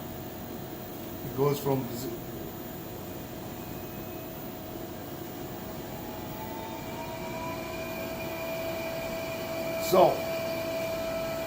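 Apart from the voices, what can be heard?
Buchi B290 spray dryer aspirator running, turbine-like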